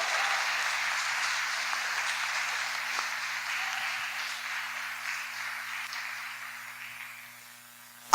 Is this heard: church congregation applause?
yes